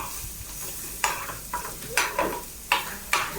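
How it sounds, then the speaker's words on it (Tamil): Chili powder, turmeric and cumin being stirred into a pear stir-fry in a pan, heard as a low sizzle broken by about half a dozen scraping stirs of the spoon at an uneven pace, close by, with no talking. "மிளகா பொடி சீரகம் லைட்டாக அப்படி போட்டு ஒரு கிண்டு கிண்டுறேன்"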